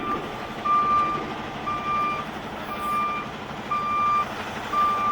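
A semi truck backs up with a trailer, its reversing alarm sounding clear, evenly spaced beeps about once a second over a steady diesel engine drone.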